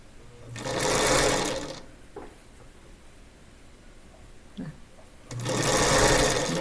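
A sewing machine stitches the seams of a quilt block for a sampler sew-along in two loud, steady bursts at the start and end, with a quiet gap of faint handling sounds between them.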